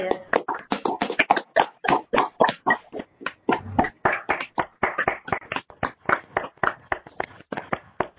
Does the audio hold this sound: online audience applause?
yes